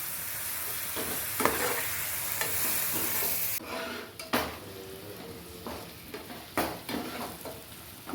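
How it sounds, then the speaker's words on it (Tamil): Tomatoes, onion, ginger and garlic sauté in a pan for mutton lung gravy with a steady sizzle, while a spoon scrapes and clatters against the metal in irregular strokes, close and fairly loud. "இந்த தக்காளி கொஞ்சம் வதங்கட்டும் ஃப்ரெண்ட்ஸ்"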